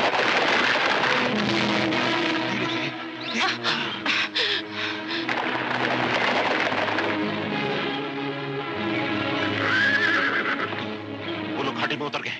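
Horses whinny and neigh loudly in a film chase scene, with galloping hooves, snorts and gasping voices mixed in a dense, busy soundtrack.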